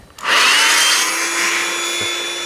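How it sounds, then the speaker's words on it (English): An electric air pump inflating an inflatable boat starts up abruptly and runs with a steady, loud whirring hiss, close by and continuous. "now I'm going to let the electric pump do some of the work for me"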